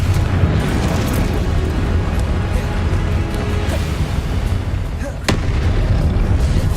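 Repeated Confringo fire spells bursting in Hogwarts Legacy, a dense stream of booming explosive blasts with one sharp crack standing out near the end, loud and continuous throughout.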